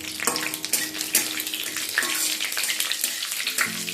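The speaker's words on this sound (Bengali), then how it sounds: "গোটা মশলাগুলোকে খানিকক্ষণ একটু ভেজে নেব যাতে এর থেকে খুব সুন্দর স্মেলটা বেরিয়ে আসে" Whole fennel seeds, a cinnamon stick and small cardamom pods frying in oil in a pan for a vegetarian chana dal, giving a close, continuous sizzle with scattered sharp crackles and pops.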